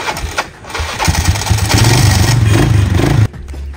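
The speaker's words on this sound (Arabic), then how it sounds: "ده صوت الباجي" A beach buggy's small engine sputters to life and settles into a loud, clattering run close by, then cuts off abruptly just before the end.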